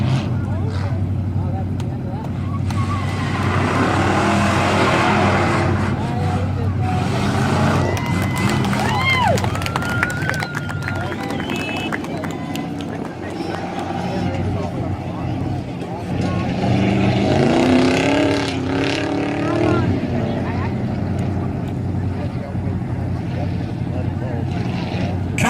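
A race truck circles a dirt oval at Valley Raceway, its loud engine roaring steadily throughout, with announcer talk and crowd noise over it.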